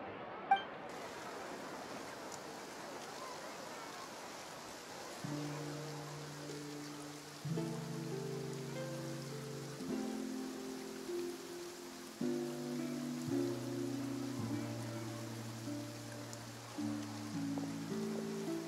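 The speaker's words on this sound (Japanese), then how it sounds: "雨が降ってきたみたい。" Rain beginning to fall in Fontaine in Genshin Impact, soft steady patter with light clinking drops, heard faintly beneath a gentle melodic music track of sustained chords.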